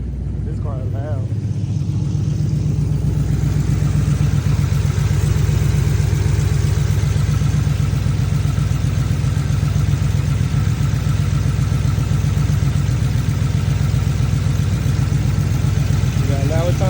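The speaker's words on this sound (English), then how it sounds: "This car is loud." A Ford Crown Victoria's engine idles loudly and steadily for the whole stretch, a deep continuous rumble close to the microphone, with a brief voice near the start.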